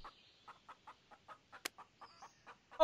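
A chicken in the zombie survival video game Gone Survival clucks in a steady series of about a dozen short, evenly spaced clucks, fairly close and clear, with a brief sharp click partway through and a louder squawk at the end.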